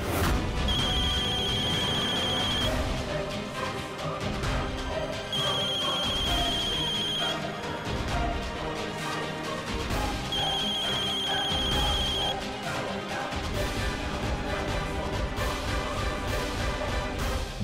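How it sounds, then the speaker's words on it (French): A telephone rings in a scene from an Indian TV drama serial, three repeated bursts of electronic trilling heard over loud, dramatic background music. "Le téléphone sonne."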